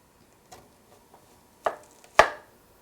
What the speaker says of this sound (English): I'm just gonna like slice it really thinly so it's still edible in the salad.